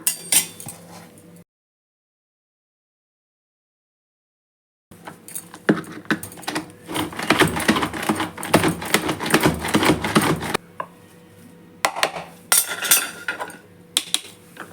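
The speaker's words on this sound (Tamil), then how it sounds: "இப்போ இந்த சாப்பரில் போட்டுக்கலாம்." Food chopper chopping boiled broccoli, a clattering whir of blades and plastic heard in several close bursts separated by pauses, including one long silent gap.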